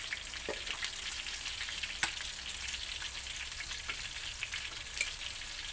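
Fresh fish frying in oil crackles softly in a continuous faint sizzle, with scattered sharp pops and spits rising above the steady hiss.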